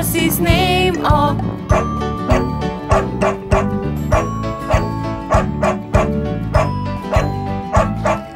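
Sung nursery rhyme about a farmer's dog with repeated cartoonish dog barks and yips set in a bouncy rhythm over music, loud and close.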